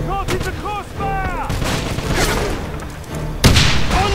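Gunfire in the video game Wolfenstein, several sharp shots and booms in quick succession, loud and close, mixed with talking voices.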